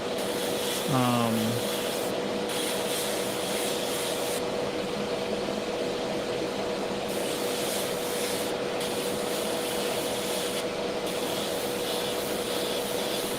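An airbrush sprays primer onto a miniature model, giving a steady close hiss that runs throughout with brief dips, over low background noise.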